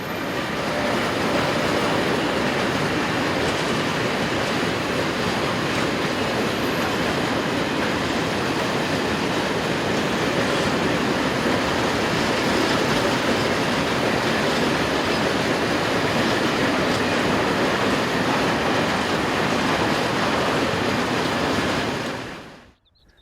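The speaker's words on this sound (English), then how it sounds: "Following along behind is this Class 186, number 276, operated by Lotos Kolej and leased from Railpool." A Lotos Kolej Class 186 electric locomotive, number 276, hauls a train of tank wagons past in Poland, a steady, loud rolling rumble with wheel noise that holds for over twenty seconds before cutting off abruptly.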